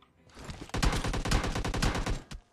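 Rapid automatic gunfire in PUBG Mobile, a loud close sustained burst of evenly spaced shots lasting about two seconds, then a final isolated shot.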